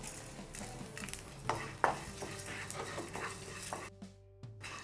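Cumin, pepper, dried chillies, curry leaves and coriander roasting in a pan, with soft crackling, scraping stirs and a couple of sharper clinks, mostly steady and close with a quieter patch near the end.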